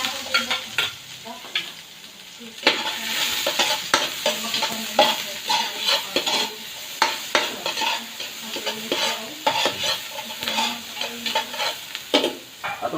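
Onions and pork bones sautéing in a pan, with steady sizzling broken by frequent scraping stirs of a utensil against the pan, close and alone.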